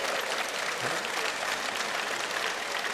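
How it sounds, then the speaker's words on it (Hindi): Sustained applause from a crowd, steady and dense, clapping filling the whole stretch without pause. "चलो भाई एक बार जोरदार अभिज्ञान गुप्ता के लिए ताली बजा दो भाई"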